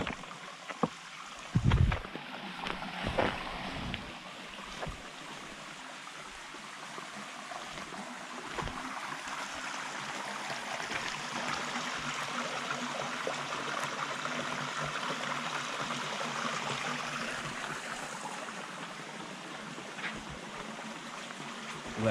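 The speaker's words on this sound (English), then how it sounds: "the water formations and how the river has been carving through this rock" River water flowing over and through carved rock in the Yorkshire Dales, a steady broadband rush that continues throughout at moderate distance, with a few brief knocks and bumps near the start.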